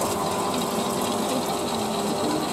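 Hot water gushing into a retro noodle vending machine as it prepares a bowl: a loud, steady rushing and pumping whir that continues without a break, close by.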